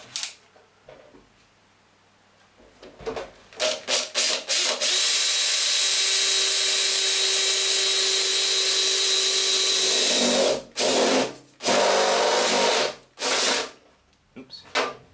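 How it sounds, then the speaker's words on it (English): Power drill boring through a thin panel on a Boeing 737 home simulator pedestal: a long, loud continuous whine for several seconds, then a few shorter bursts with pauses between, and quiet handling before it starts. "Shouldn't be too hard to drill through, it's very thin."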